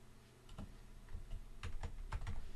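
Computer keyboard typing while a web page path is tested: a run of light, close key clicks that grows busier, ending in a few firmer presses like Enter, with no voices.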